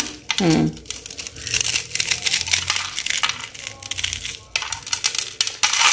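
Crispy fried rengginang rice crackers crunch and crackle in irregular bursts, close and loud, with brief pauses between bites and crinkles.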